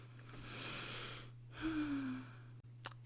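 Short, breathy nasal sniffs and inhalations sound close up over a constant low hum, ending with a quick sharp intake.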